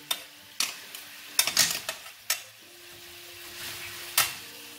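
Pork souvlaki skewers coated in mustard are stirred in a hot pan. Sharp clacks and scrapes from the stirring come in irregular bursts over a soft, steady sizzle.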